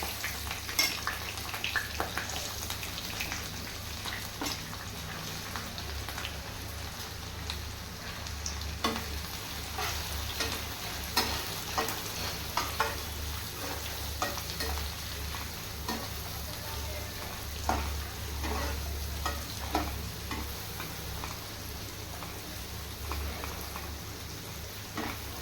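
Sliced onions frying in a pan for goat mutton curry, a close, continuous sizzle with crackles and occasional stirring scrapes throughout.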